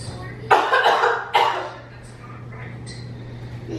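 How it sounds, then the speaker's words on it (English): A person fakes two harsh coughs up close as part of a prank about coughing up blood. The coughs come in quick succession over a faint steady hum, followed by quieter breathy rustling. "tell him I'm coughing up blood"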